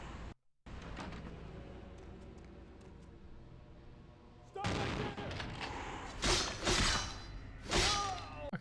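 A full-auto shotgun in a video game fires several loud, spread-out blasts in the second half, following a stretch of quieter ambient noise.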